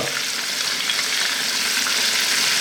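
Garlic and dried lime frying in a pan over medium heat, a steady dense sizzle that runs unbroken and fairly loud throughout, with no talking.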